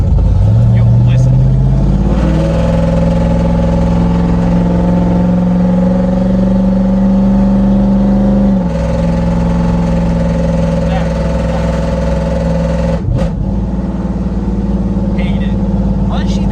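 A Cummins Big Cam 302 truck engine, loud and apparently unmuffled, revs up from idle into a steady, booming drone with a strong rumble. A brief dip in revs comes partway through, and a voice speaks over the noise.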